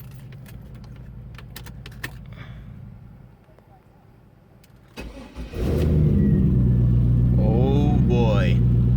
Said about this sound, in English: Looks like it have an aftermarket muffler, so we'll start it up and see how that sound.